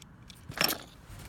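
A GMC truck key fob and loose keys jangle once in a short metallic burst, close and fairly quiet, with no talking.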